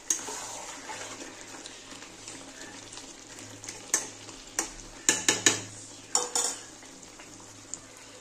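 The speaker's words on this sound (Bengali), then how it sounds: "আবার একটু নেড়ে দিচ্ছি।" Mutton for Bengali-style kosha being stirred in a cooking pot, with a steady low sizzle underneath and a series of sharp metallic spoon scrapes and clinks against the pot, clustered near the end.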